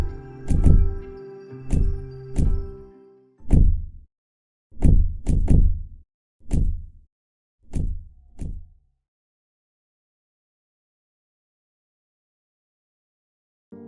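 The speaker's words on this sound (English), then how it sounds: "So she tried to make a noise by banging the door." Someone banging on a door that won't budge in a horror video game set in a doll town, about a dozen heavy, hollow thuds in uneven groups, loud and close, fading to silence afterward.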